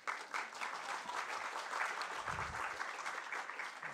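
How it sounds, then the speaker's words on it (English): An audience at an international open-science seminar in Rio claps together in a steady, fairly distant burst of applause, heard alone without speech. "So applause to you all."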